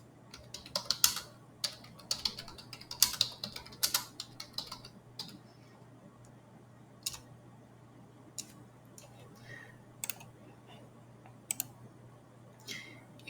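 Typing on a computer keyboard while entering Windows command-line instructions: irregular bursts of quiet key clicks, busier in the first few seconds and then sparser, isolated taps over a steady low hum.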